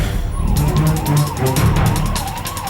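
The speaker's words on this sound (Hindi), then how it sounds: "पालिका बाजार में अचानक पुलिस के सायरन गूंजने लगे" Several police car sirens wail loudly and continuously during a mock security drill at Palika Bazaar near Connaught Place in Delhi, their rising and falling tones layered over traffic noise.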